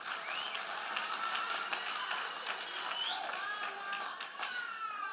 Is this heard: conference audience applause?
yes